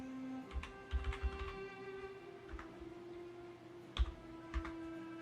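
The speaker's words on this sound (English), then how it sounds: "Let's just type in Amalek." Typing on a computer keyboard, a few faint, scattered key clicks and taps in irregular bursts over a low, steady electronic hum in a quiet room.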